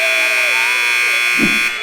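A sustained electronic buzzer tone marking a timeout at a high school volleyball match, loud and steady, with a brief muffled thump near the end as the tone cuts off.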